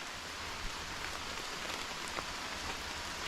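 Steady rain pours down in a Costa Rican rainforest at Heliconias, a dense, even hiss of drops on leaves with scattered louder drips close by, constant throughout with no voices.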